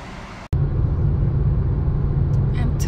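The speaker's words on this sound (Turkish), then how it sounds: "Şimdi arabamızı da başlama zamanı" A car on a busy highway drives with a steady low engine and road rumble, close inside the cabin after a brief cut, with faint other sounds near the end.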